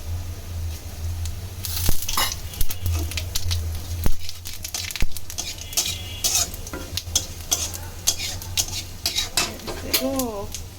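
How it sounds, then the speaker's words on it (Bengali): Potatoes and onion frying in oil in a home kitchen pan, stirred with a utensil. Steady soft sizzle sits under scattered scrapes and clinks of metal against the pan, with a low background hum. "এই যে এবার আলু ভাজি শুরু করলাম আলু তেলের মধ্যে দিয়ে দিছি"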